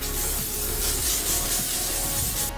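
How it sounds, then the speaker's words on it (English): A steady hissing spray of makeup setting spray, close and continuous, with a soft airy texture and no voices. "I'm gonna use a setting spray."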